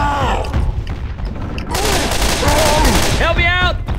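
Gunfire in Left 4 Dead: a rapid, loud burst of shots and booms rises midway through amid chaotic noise, with voices shouting in the background.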